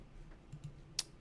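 Light typing on a computer keyboard, a few soft scattered clicks and one sharper keystroke, faint and close in a quiet room.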